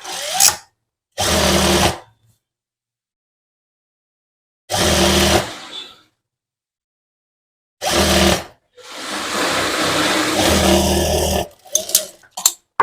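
A sewing machine stitching a sharara runs in several separate bursts of whirring, the first few short and the last one longer, with silent pauses between them and no talk.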